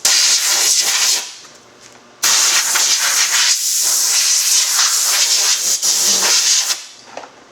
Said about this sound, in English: I'm going to take the air compressor and blow off the rest of the dust out the plexiglass